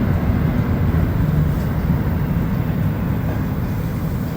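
Montreal Métro train approaching Vendôme station, heard from inside the rear car as a loud continuous low rumble and roar of rubber-tyred running gear.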